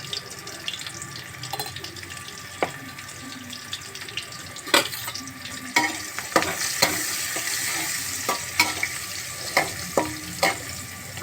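Onions fry with turmeric in a pan, giving a faint, steady sizzle broken by occasional sharp clinks and stirring scrapes.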